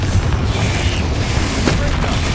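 Spells cast in Hogwarts Legacy, Depulso and Confringo blasts, loud mechanical bursts and booming impacts overlapping in quick succession with a crackling, grinding texture throughout, no speech.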